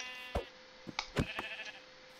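A sheep in a video game gives short bleat-like calls, mixed with several sharp percussive thuds and a brief wavering cry, all fairly close with no speech.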